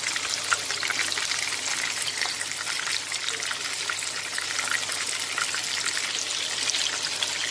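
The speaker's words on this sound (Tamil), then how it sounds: "நல்லா ஃப்ரை ஆகிட்டு இருக்கு." Chicken deep frying in hot oil for butter pepper chicken, a steady bright hiss of bubbling oil with crackling texture and a faint low hum underneath, continuous and fairly loud.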